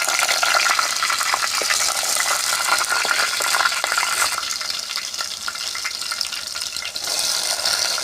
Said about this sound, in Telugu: గుడ్లు వేపేసాకండి ఇలా పచ్చిమిర్చి వేస్తున్నాను